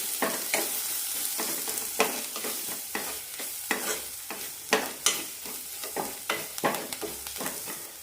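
Kashmiri chili powder and roasted coriander powder stirred in a hot pan for a pigeon pea curry: steady sizzling frying with a rhythmic series of sharp scraping spoon strokes, close and loud, with no talking.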